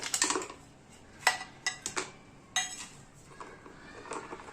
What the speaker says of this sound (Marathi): आता यात टाकून घ्यायचे चार ते पाच बर्फाचे खडे